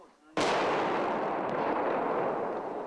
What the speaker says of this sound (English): From the force of the explosion, the Marines concluded there was a cache of 12 to 15 artillery shells inside the van.